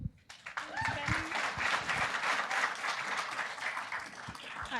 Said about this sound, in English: Huge round of applause for all 9 teams